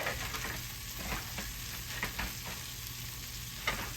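Trout fillets dredged in flour sizzle and crackle in hot butter in a pan, a steady close frying hiss with small pops and occasional louder spits.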